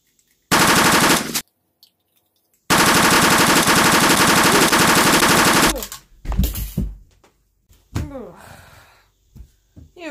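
Gunfire in Fortnite during a sniper glitch: two blasts of loud sustained weapon fire, one short and one about three seconds long, separated by silence, followed by scattered sharper shots and brief voice sounds.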